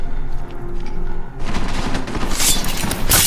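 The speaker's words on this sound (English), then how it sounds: "We just use the silenced pistol, which can be very deadly and very quiet." Silenced pistol fire in the video game Deus Ex: Mankind Divided: a dense, loud burst of rapid gunshot-like cracks and booms that picks up sharply midway and keeps pounding to the end, with no talking.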